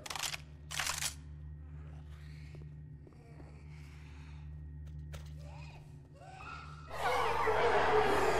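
Gun reloading in Left 4 Dead 2: a few sharp metallic clicks and clacks up close over a steady game hum, followed by a burst of loud noisy action at the end.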